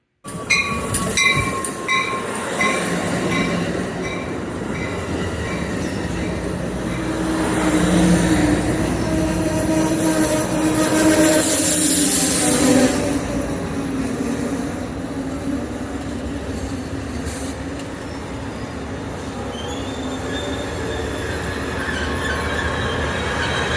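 A train rumbles past very close and loud in Fullerton, wheels squealing and clattering on the rails in a long continuous roar.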